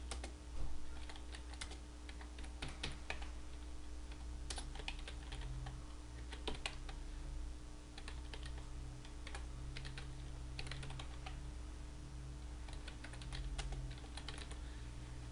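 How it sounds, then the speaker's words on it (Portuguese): Fingers type a client name on a computer keyboard in a quick, uneven run of close, crisp keystrokes that continues throughout with no talking. "Então eu vou digitar aqui um cliente."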